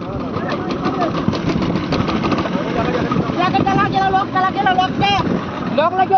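A fishing trawler's engine drones steadily at sea off Digha, with continuous low rumble and wind buffeting the microphone, while people talk loudly over it throughout.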